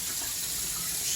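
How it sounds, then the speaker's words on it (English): Water runs steadily from a kitchen tap for a brine-soaked pork belly rinse, a continuous close splashing hiss with no talking. "Go ahead and turn on some water here"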